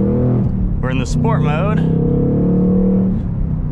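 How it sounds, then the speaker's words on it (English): A Ford Mustang Mach 1 with Tremec manual gearbox pulls away in sport mode, its engine and exhaust droning steadily, climbing and dropping in pitch through gear changes while someone talks over the close, loud sound. "All right, guys, we are setting off in the Mach 1."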